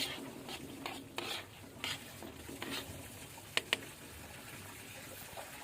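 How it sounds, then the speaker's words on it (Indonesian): Eggs are stirred in a pan while cooking seblak, with soft scraping and light tapping strokes at an uneven pace and a faint sizzle underneath, close and quiet. "Kita aduk jangan sampai terlalu hancur biar masih ada rasa telurnya"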